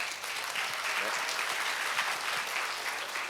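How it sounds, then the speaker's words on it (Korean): A crowd at a concert event in Busan applauds warmly, a continuous even wash of many hands clapping at moderate distance. "큰 박수 주세요"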